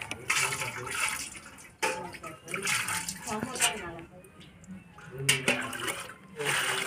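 Fish are washed in water with intermittent splashing, sloshing and running water close by, while a voice talks on and off over it.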